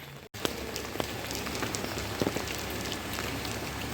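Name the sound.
rain falling at Haridwar ghat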